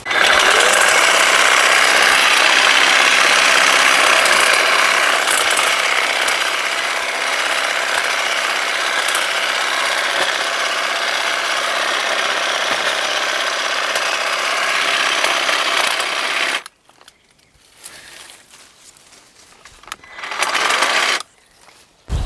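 A HYECHO 18V battery hedge trimmer buzzes loud and close as it chews through an 18 mm branch, a steady harsh whir for about sixteen seconds, then quiet with a short final burst.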